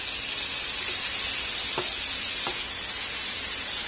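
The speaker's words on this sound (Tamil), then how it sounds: "இந்த தக்காளியும் இதோட சேர்த்து நல்லா வதக்கி விட்டுருங்க." Diced tomatoes sautéing in a pan while making street-style tawa paneer, a steady close sizzle and frying hiss with a couple of faint stirring clicks, no voices.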